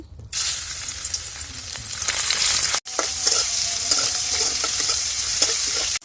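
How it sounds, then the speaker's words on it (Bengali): Prawns frying in hot oil in a wok, a loud steady sizzle that runs without a break, cuts out briefly, then sizzles on again with light stirring scrapes. "তেল গরম হয়ে গেছে, এখন চিংড়ি মাছগুলো হালকা ভেজে নেব।"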